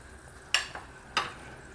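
A small test piece of food dropped into hot frying grease before egg rolls go in, giving two brief sharp sizzling bursts with a faint crackle between, close and fairly quiet.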